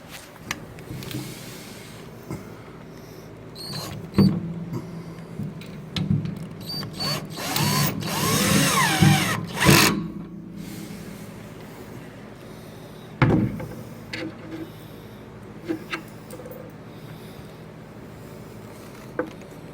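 A power driver runs a large screw with lock washer and washer into a table sign holder during assembly of a Torrid denim table, whirring in several close bursts with clicks and pauses.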